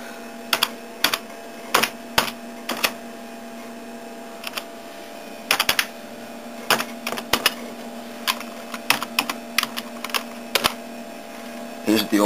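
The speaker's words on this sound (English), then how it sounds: "Here's the old classic Keytronic keyboard I forgot to show you." Clicky keystrokes on an old Keytronic computer keyboard with Windows keys, attached to a Pentium III machine, come in irregular bursts and short pauses over a steady low hum, close and fairly loud.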